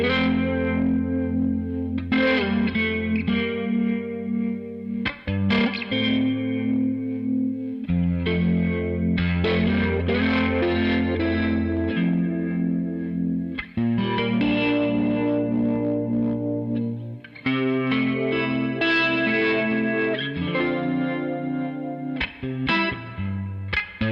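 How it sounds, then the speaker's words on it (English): Electric guitar played through a low-speed Leslie rotating speaker, loud and continuous with sustained chords and phrases, a slow swirling chorus-like throb running through the notes, and no talking. "It's like got kind of a chorus vibe, but you can hear the throb, like the rotating horn of the Leslie, right?"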